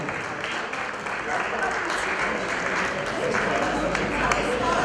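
Steady, dense applause from a wedding crowd greeting the grandparents, continuous and fairly loud throughout with no break.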